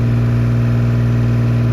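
A tractor engine idles hot after working in mud, a loud, steady, close mechanical drone with a strong low hum and continuous rumble, heard alone without talk.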